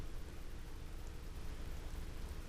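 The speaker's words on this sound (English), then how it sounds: "It's supposed to rain all day tomorrow, just like it is now, just a light rain." Light rain falling steadily on an off-grid tiny cabin in Alaska, a soft, even hiss of drops that holds at a constant low level throughout with no voices.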